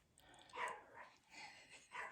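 Small dog barking and growling from downstairs, faint and distant, a few muffled yips spread over two seconds inside a quiet house.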